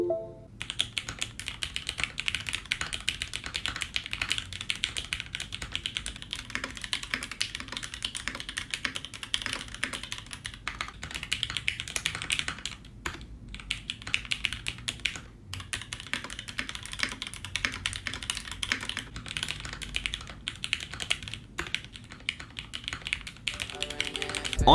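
Continuous fast typing on a mechanical keyboard with an acrylic Alice-layout case fills the whole stretch with dense, close clacking and only brief pauses.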